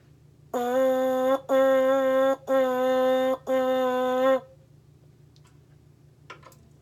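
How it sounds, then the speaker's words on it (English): Four separate buzzing notes on a French horn mouthpiece alone, each tongued cleanly and held about a second, played close over a low background hum. "On the mouthpiece, that would sound like this."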